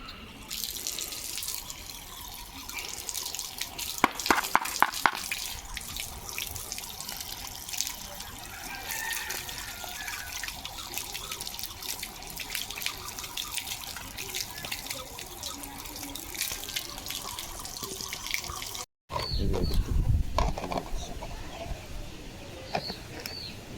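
Water running into a chicken drinker in a poultry shed, a continuous splashing stream with a few sharp taps and clinks, then a brief cut and a louder gush, with faint birds in the background.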